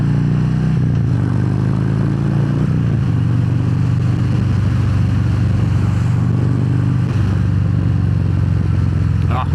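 A Harley-Davidson Fat Bob 114 cruiser rumbles steadily on a ride, its low engine drone loud and continuous as the pitch shifts slightly with throttle, with wind noise over it.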